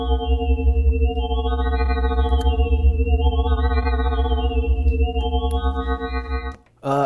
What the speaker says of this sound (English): Another sweeping wavetable.